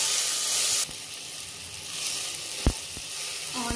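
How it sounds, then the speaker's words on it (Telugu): Onions fry lightly in a pan for a methi leaves curry, a bright sizzle that drops suddenly in level early on, then continues as a softer crackle broken by a couple of sharp utensil knocks. "కొంచెం వేయించుకుందాం లైట్ గా ఆనియన్ ఏగేంత వరకు వేయిద్దాం"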